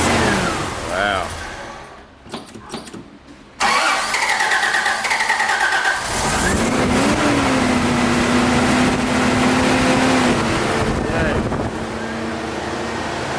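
A Toyota FJ60 Land Cruiser engine cranks and catches, then settles into a loud, close, steady idle, with wind buffeting the microphone and voices nearby.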